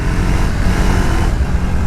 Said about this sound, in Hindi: 2 बैरल एग्जॉस्ट नोट आपको सुनाई देता है जब आप उसको चलाते हो.